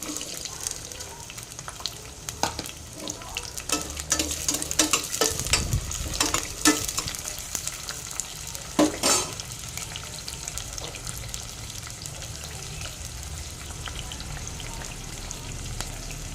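Onions go into hot oil with cinnamon, cardamom, cloves and a bay leaf, giving a steady close sizzle and frying hiss with scraping stirring strokes over it, louder during the stirring in the middle.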